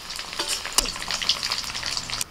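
Paneer and whole spices sizzle and crackle in hot white oil in a pan, with bay leaf, cardamom, cinnamon and cloves among them. The busy frying noise runs continuously with scattered sharp pops.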